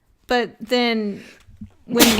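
One sharp, close sneeze bursts out at the end, just after someone talks.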